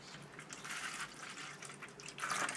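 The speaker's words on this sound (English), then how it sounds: "So I'll just water these." Water poured over softwood cuttings of box plants: a quiet, steady splashing trickle that swells briefly louder near the end, with no talking.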